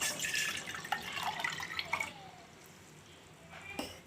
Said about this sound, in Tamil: உங்களுக்கு எவ்வளோ அளவு வேணுமோ அவ்வளோ தண்ணி ஊற்றிக்கலாம்